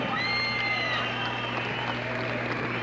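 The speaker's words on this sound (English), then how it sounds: "Put your hands together for Clarence Garcia and Mike Middleton." Crowd at a professional boxing match in Santa Fe, applauding and cheering after the Clarence Garcia versus Mike Middleton fight; steady dense roar of clapping and voices with an announcer talking over it.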